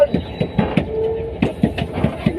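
An MRT train runs on rails with a regular clickety-clack of wheels over joints and a faint squeal, heard close from inside or beside the carriage.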